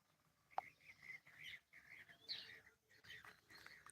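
Small birds chirp outdoors on a rural homestead in the morning, a scatter of faint, repeated tweets and short calls with brief pauses, heard at a distance against quiet surroundings.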